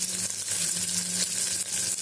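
Garlic cloves, twenty or so, sizzle steadily in a pan alongside thick-cut onion and ginger pieces, a dense continuous frying hiss with a low bubbling hum underneath, close and fairly loud, no voices.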